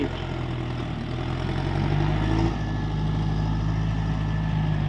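A Kubota M7040 tractor out leveling a rice field runs with a loud, steady, low diesel drone close by, with a slight shift in pitch midway.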